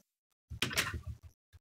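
A wooden door in the Minecraft video game opens with a quick creaking, scraping burst followed by a couple of short knocks, close and fairly loud against near silence.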